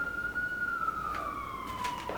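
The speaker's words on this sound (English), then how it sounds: "And here comes this police siren." A police car siren passes outside, one long wailing tone that holds steady and then slowly falls in pitch as it moves by, fairly loud over background hum.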